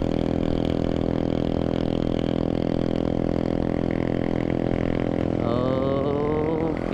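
An automatic scooter engine drones steadily at a constant pitch, the engine holding back the scooter on a descent, with a rising whine near the end.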